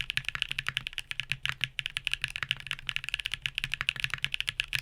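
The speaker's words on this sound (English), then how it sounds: "In terms of sound, these are creamy and thocky" Rapid, steady typing on a mechanical keyboard fitted with Hall effect magnetic switches, giving a creamy, thocky clatter of dense, evenly paced keystrokes, close and alone with no voices.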